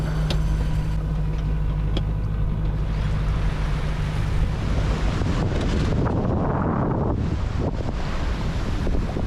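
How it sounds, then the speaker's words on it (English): Strong wind roars across the microphone on a sailing boat at sea in the North Sea, a loud continuous buffeting rush with waves and water sloshing against the hull beneath it. "Finally the wind turned, as the weather report said."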